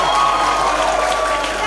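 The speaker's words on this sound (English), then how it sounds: "Put your hands together for King Zaramo." An audience at a junior school concert applauds for King Zaramo, a loud dense crowd of clapping with some cheering mixed in.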